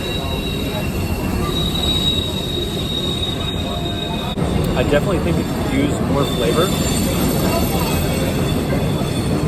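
A long freight train rolls past close by with steady rumbling and high squealing wheels, continuous and loud, while someone talks over it.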